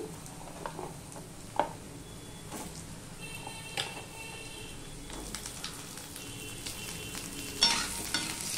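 Potatoes tossed into browned onions frying in a pan, a soft steady sizzle with scattered clinks and stirring scrapes, louder crackling toward the end, no speech.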